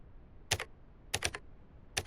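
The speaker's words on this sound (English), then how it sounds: "Let's start by typing help and pressing enter." Keyboard typing of commands in the video game The Other Side: three short bursts of clicky keystrokes, a quick pair, a cluster of three, then one more, close and fairly crisp over a low hiss, no voices.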